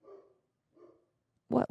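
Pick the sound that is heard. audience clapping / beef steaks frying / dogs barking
dogs barking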